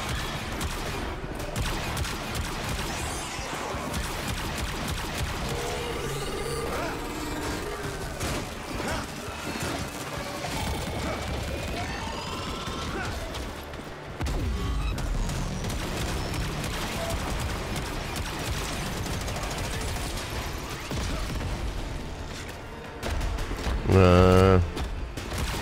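Player weapon fire in Warframe rattles in dense, continuous bursts alongside crashing game effects, with a few short breaks and a louder flurry near the end. Voices and game chatter sit under the shooting.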